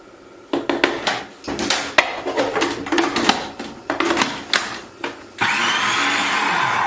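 A Kenwood food processor pulses a spicy bean burger mix in a string of short, loud bursts, then settles into one longer continuous whirr.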